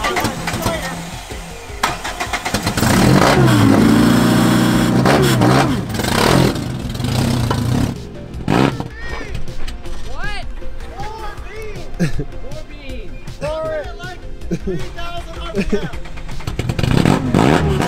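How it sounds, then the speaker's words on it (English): A car on a race track revs hard during laps, its loud engine roaring and rising in pitch through repeated gear changes up close, with people shouting and talking over the din. "It's the car."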